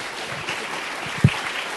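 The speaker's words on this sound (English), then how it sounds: "give a round of applause for my friend," Conference audience applause welcoming speaker Colin O'Neill at a design event, a steady wash of clapping in a large room, moderately loud, with one sharper thump near the end.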